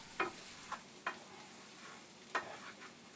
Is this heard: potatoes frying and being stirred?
yes